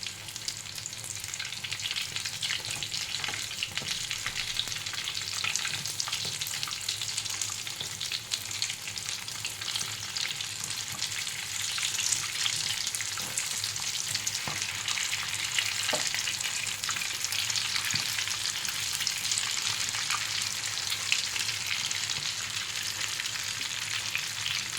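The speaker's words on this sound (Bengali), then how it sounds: "তার উল্টিয়ে দেবো আর একটা দিক ভেজে নেব" Potato cheese balls fry in hot oil, spaced apart and turned over to brown the other side, giving a steady, dense sizzle and crackle that runs unbroken and close throughout, with no voices.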